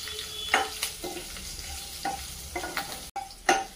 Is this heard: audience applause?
no